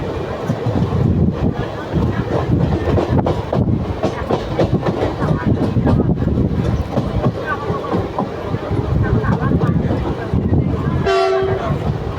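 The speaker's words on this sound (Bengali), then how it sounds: "এই ট্রেন আসতেছে" A train rolls past at close range, a steady loud rumble of wagons with wind buffeting the microphone, and a short horn-like tone sounds near the end; people speak faintly beneath the noise.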